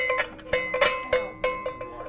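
A jingle bell aboard a showboat barge is shaken in quick uneven bursts, bright metallic rattles and rings repeating close and clear about every half second, with no voices.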